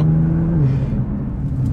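A Nissan GT-R engine revs loudly up close, its pitch climbing and then settling into a steady, whirring drone, with no voices over it.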